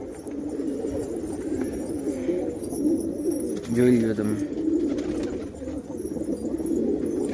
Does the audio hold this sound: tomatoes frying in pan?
no